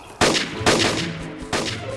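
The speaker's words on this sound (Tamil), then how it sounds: "என் பலூன்ஸை வெடிக்காதீங்கடா." Three sharp bursts of cartoon balloons popping in a kids' animation, each a loud crack with a short ringing tail, spaced about half a second to a second apart.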